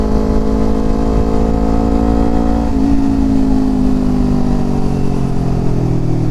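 A motorcycle fitted with an aftermarket AR1 exhaust drones loudly and steadily at close range, its deep bassy engine note shifting slightly in pitch partway through, with no voices.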